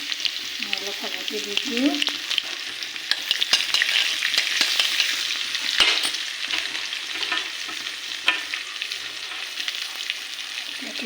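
Bitter gourd with garlic and turmeric fries in hot oil in a karahi with a steady, close sizzle and crackle. Occasional stirring clicks can be heard, and a voice speaks briefly near the start.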